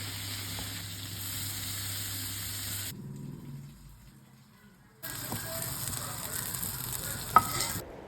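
Vegetables for shukto fry and get stirred in a pan, a moderate crackling sizzle with light stirring, broken by a quieter gap before the frying returns with a sharp clink near the end.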